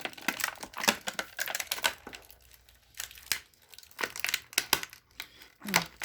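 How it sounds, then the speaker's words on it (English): Thin light plastic action-figure packaging, a Playmates 2022 Star Trek II: The Wrath of Khan figure blister, crinkles and crunches in repeated sharp bursts as it is pushed down and squashed, close and fairly loud with brief pauses between crushes. "I'm trying to remove everything else from the little packaging"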